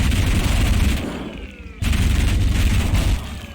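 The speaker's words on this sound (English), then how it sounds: "nail gun" Rapid automatic nail gun fire in the shooter game Ultrakill, a loud dense stream of metallic shots that briefly drops away for under a second and then resumes at full intensity.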